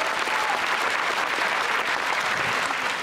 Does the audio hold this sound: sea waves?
no